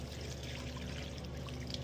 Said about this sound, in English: I'm just gonna let the water out so you guys can see